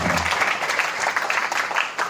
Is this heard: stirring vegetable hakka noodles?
no